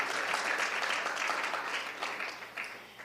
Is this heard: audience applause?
yes